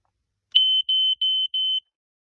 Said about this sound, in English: EI146 smoke alarm.